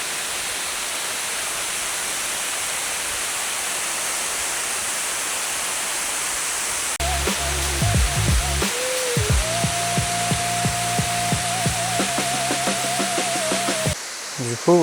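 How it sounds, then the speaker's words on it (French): A large waterfall on a hiking trail in Bulgaria pours with a steady, loud broadband roar for the first half, after which music plays over it. "je pense qu'on a vu la plus grosse cascade maintenant"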